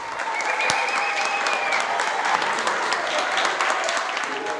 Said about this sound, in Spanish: Aplausos y gritos de alegría.